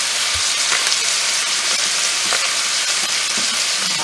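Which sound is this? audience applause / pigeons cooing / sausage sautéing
sausage sautéing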